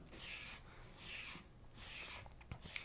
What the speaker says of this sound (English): He's final sanding that radius by hand